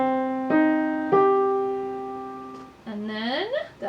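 A few sustained piano notes ring out one after another, spaced over a couple of seconds, playing a rhythm from a piece, followed by a voice briefly singing or humming along.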